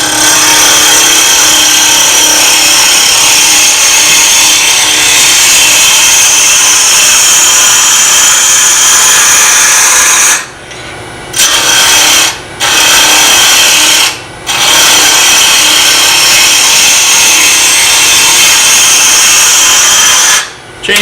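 Wood spins on a lathe while being shaped into a chisel handle, giving a loud, steady cutting and rubbing drone that runs almost nonstop, broken by a few brief pauses as the tool lifts away.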